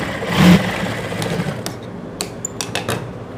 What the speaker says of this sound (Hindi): इधर किनारे पर भी एक सिलाई लगा देते हैं